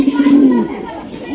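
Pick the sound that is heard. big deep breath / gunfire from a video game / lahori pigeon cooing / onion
lahori pigeon cooing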